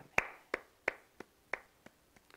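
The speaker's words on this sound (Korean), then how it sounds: "하나님께 영광과 감사의 박수를 올려드리겠습니다" Applause in a church comes as a short run of crisp, evenly spaced hand claps, close and distinct, fading toward the end with no talking.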